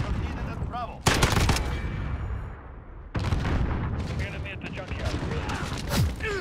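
Rapid automatic gunfire in a Modern Warfare multiplayer firefight with the FAL rifle, loud bursts of shots cracking in dense clusters with a brief lull midway before firing resumes.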